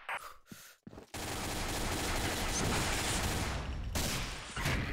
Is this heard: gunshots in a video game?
yes